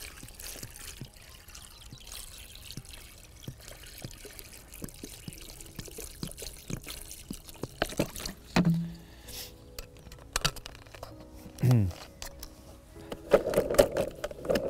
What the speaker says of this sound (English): So I'm just going to add enough water so the baits are almost covered.